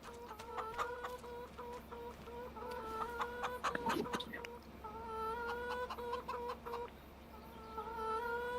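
Chickens clucking inside a chicken coop in Farming Simulator 25: repeated short, nasal clucks and bursts of cackling from several hens, fairly quiet but steady throughout.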